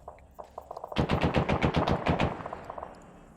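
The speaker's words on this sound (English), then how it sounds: "So he's still that 50 cal firing." A .50 cal heavy machine gun fires in a video game: a sustained, loud burst of rapid, evenly spaced booming shots, with lighter scattered shots just before and after.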